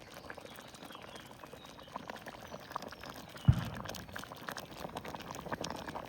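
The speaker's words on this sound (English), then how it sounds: "Leave that bubbling away for, I don't know how long" Chicken and mustard seeds simmer in vegetable stock in a pot over low heat, giving a soft, steady bubbling and sizzle with one sharp knock partway through.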